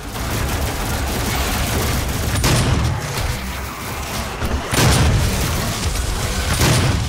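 Continuous heavy gunfire in Doom, with dense booming blasts and rapid shooting filling the whole stretch, loud and close with periodic stronger bursts.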